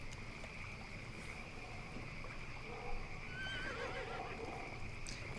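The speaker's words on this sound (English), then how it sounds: "right. Donkey." A donkey in the video game Albion Online makes a faint braying whinny and soft hoof clops over a steady wind-like ambient bed, low in level with no talk.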